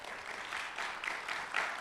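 Brief audience applause after a poetry performance at a keynote discussion, soft, steady clapping from a crowd heard at a distance.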